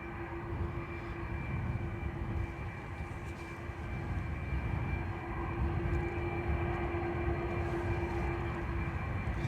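Jet airliner taking off from runway 10 right at Dublin Airport, a steady, continuous engine roar with a sustained whine, holding strong and even throughout without speech.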